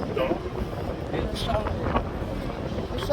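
Strong wind rushes steadily past the microphone on a boat trip near a waterfront hotel, with voices talking faintly underneath.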